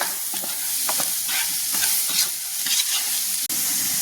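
Vegetables seasoned with salt and turmeric fry in a pan, a constant bright sizzle broken by repeated scraping stirs of the spoon, close up with no talking.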